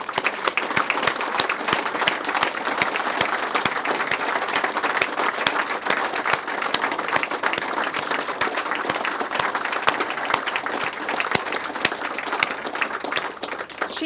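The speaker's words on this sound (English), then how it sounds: "I'm going to ask you to join with me in a round of applause for Alison" Sustained round of applause for Alison at a parliamentary reception, many hands clapping in a dense, steady patter that holds for the whole stretch with no speech on top.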